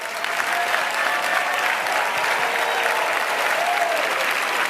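An audience at a business presentation bursts into sustained, loud applause, with many hands clapping steadily throughout and no break.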